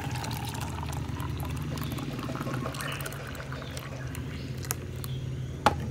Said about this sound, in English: So I'm gonna pour it now.